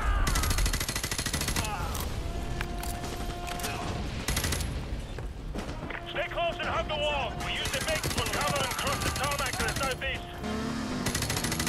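Rapid bursts of automatic gunfire and explosions fill a Call of Duty Modern Warfare 2 Remastered campaign mission, loud and nearly continuous with dense overlapping shots and mechanical clatter throughout.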